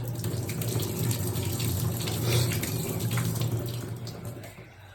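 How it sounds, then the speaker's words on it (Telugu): Tap water runs steadily as dal and leafy greens are washed to remove soil, a continuous nearby splashing stream that eases slightly toward the end. "4-5 సార్లు కడగాలి, ఎందుకంటే కింద మట్టి ఉంటుంది"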